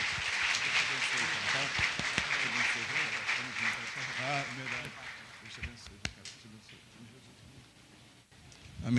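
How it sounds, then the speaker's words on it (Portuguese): Church congregation at a thanksgiving service applauding, a dense sustained clapping that fills the room and then fades away toward the end. "Muito obrigado por aplaudir pela vida deles."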